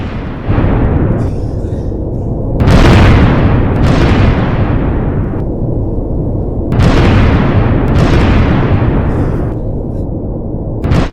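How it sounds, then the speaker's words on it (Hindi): A series of loud, booming explosions in an attack in Balochistan, each with a sharp onset and a long rumbling decay, several blasts in quick succession. "जोरदार धमाका हुआ बलूचिस्तान में।"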